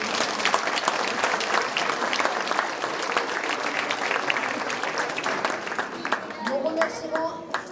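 A crowd claps steadily at a gymnastics club awards and decorations ceremony, with dense, sustained applause that thins slightly toward the end.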